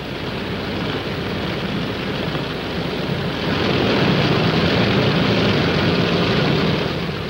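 Military planes roar as they launch, likely from a carrier deck, to support Marines at the front: a loud, steady jet-engine rush that swells in the second half, with no talking.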